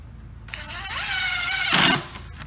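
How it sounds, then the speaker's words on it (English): A drill or driver whines up as a number 8 stainless steel 2-inch deck screw goes into a light trap fan housing, a single rising two-second run that ends with a louder grinding burst. "You'll attach it using number 8 stainless steel 2-inch deck screws."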